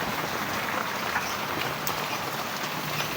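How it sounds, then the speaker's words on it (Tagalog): Steady rain falls in an outdoor spot where geese are fed, a dense, even patter on surfaces that runs the whole time with no voices. "hindi ko alam kung malakas ang ulan."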